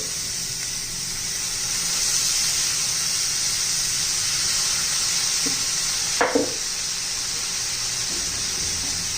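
Spice masala for a kurdai and onion dish fries in a pan, a steady bright sizzle with faint stirring and a couple of soft clinks from a spoon against the pan.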